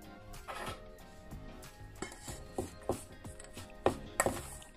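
A utensil stirs dried fruit, almonds and cheese through flour in a bowl, giving irregular soft knocks and scrapes with a few sharper clinks, close by and without speech.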